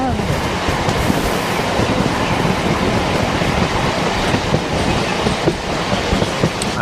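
A passenger train pulls away from Beldanga station, its running on the tracks filling the space with a loud, steady rumble and faint rhythmic clatter heard from inside a carriage, while voices murmur underneath.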